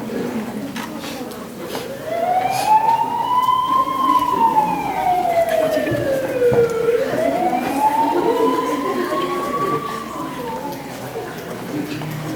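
An ambulance siren wails in slow rising and falling sweeps during a high school drama performance, loud and continuous over a murmur of background noise.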